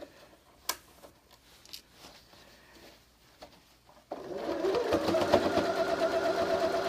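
After a few light taps and clicks, a sewing machine starts up and runs steadily up close, back stitching the seam of a Christmas stocking and continuing to the end without any talk.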